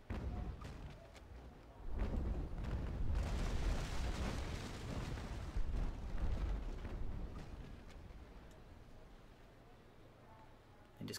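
A sailing warship takes cannon fire in the naval combat game Naval Action, with deep rolling booms and a sustained rumbling roar that swell in the middle and then fade.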